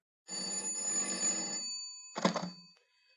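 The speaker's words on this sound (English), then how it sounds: "Telephone rang once again" An old-fashioned telephone bell rings in a radio drama: a long ringing burst, a short pause, then a second shorter ring, fairly close and clear with no voices over it.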